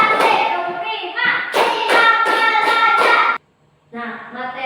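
Children in an Indonesian classroom clap their hands in time with a counting chant, with loud rhythmic claps mixed with young voices, then a brief pause and another burst of clapping and chanting.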